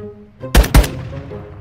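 Gunfire in the mobile shooter Warzone Mobile: two sharp, loud shots in quick succession with short echoing tails, then quiet.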